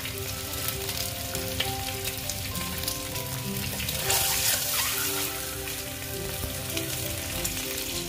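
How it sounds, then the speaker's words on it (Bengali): Eggs frying in oil for an egg and potato curry, a steady, close crackling sizzle with scattered pops that swells briefly midway, with no speech. "দেখো, মোটামুটি ডিম ভাজাটা হয়ে গেছে।"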